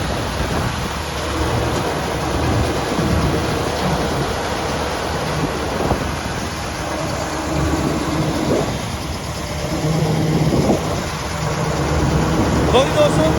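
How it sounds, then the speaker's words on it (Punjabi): A tractor-driven straw-making machine runs during the wheat harvest, giving off a loud, continuous churning roar and rumble close by for the whole stretch. "ਤੁਹਾਨੂੰ ਦਿਖਾਈਏ ਤੂੜੀ ਬਣਾਉਣ ਦੀ ਮਸ਼ੀਨ"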